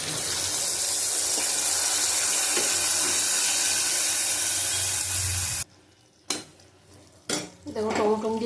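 Water poured into a pan of tomatoes makes a steady rushing hiss, then stops abruptly, followed by clinks of a utensil against the pan and a few short, clattering scrapes.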